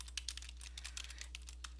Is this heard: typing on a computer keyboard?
yes